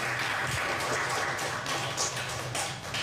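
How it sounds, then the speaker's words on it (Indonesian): Audience clapping together in a hall, a steady wash of many hands applauding at moderate volume, no voices over it. "kita boleh tepuk tangan buat kita semua"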